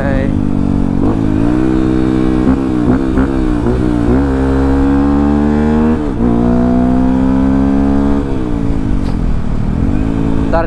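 A motorcycle with an aftermarket exhaust being tested on the move, loud and close, the engine note rising and falling through repeated revs and gear changes, with a voice talking over it at times.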